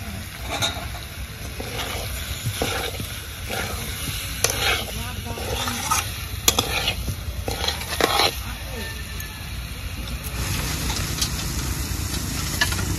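Small new potatoes sizzle as they are sautéed in a pan for niramish dum, a steady frying hiss broken by repeated stirring scrapes, close and continuous.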